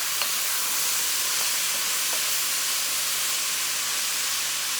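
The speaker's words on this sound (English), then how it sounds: "You hear that sizzling slowing down?" Red beans sizzling in a pot as the moisture cooks off, a steady close hiss of frying and steam that carries on evenly with a few faint clicks and no talking.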